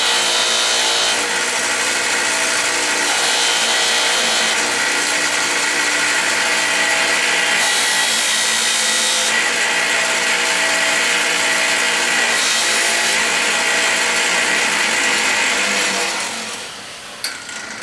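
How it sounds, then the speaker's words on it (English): Knife blade pressed against a spinning buffing wheel at a forge, a steady loud whirring hiss with slight shifts in pitch as the blade moves, then winding down at the end. "Now the other thing when you're buffing like that is I'm holding the blade at an angle"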